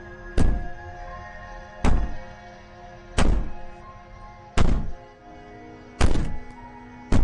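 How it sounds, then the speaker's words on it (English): Heavy banging on a door in the video game Slay the Princess: six deep, booming thuds spaced about a second and a half apart, each decaying into a short resonant rumble, with quiet between the blows. "Maybe the banging and wailing will stop if you just don't pay attention to it."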